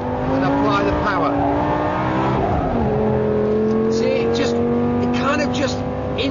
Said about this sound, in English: So second gear, pitch it in, and apply the power.